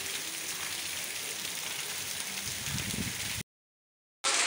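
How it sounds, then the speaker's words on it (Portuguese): Heavy rain pouring in São José do Belmonte in northeastern Brazil, a dense constant hiss of downpour, broken briefly by a silent gap before resuming. "continua chovendo. Né? Chovendo bastante."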